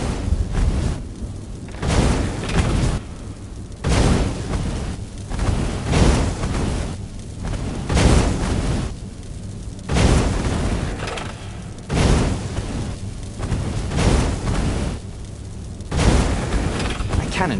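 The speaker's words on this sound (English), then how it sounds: "Cannon trap. Who doesn't love being shot at by cannons?" A cannon trap in the action game Stories: Path of Destinies fires heavy booming blasts at a steady pace of about one every two seconds, loud and regular over a low game background.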